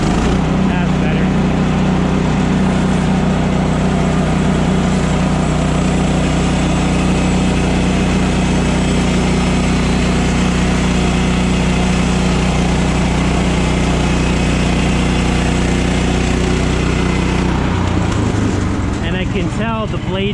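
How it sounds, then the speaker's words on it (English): The engine of a Woodland Mills portable sawmill runs loud and close while cutting lumber with a dulling blade, holding a steady high rev for most of the stretch before dropping off near the end. "It's the engine's revving up a little higher than it did when I put the blade on for the first time."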